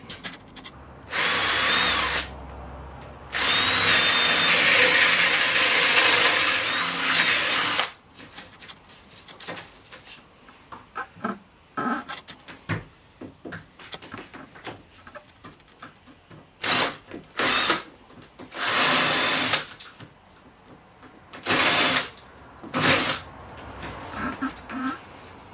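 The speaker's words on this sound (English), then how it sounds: "So I'm just gonna drill a hole through there" A power drill bores a hole through cabinet wood during a mancave modification. Several loud, sustained whirring bursts of a few seconds each come first, separated by pauses, followed by shorter intermittent drilling and handling clatter.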